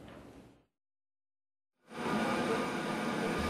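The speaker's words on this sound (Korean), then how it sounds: "귀성객들을 실은 기차가 들어옵니다" A train carrying holiday homecoming travelers pulls into a station in Gangwon, South Korea. A short burst of noise and a pause of near silence give way to a loud, steady, broadband rumble that continues to the end.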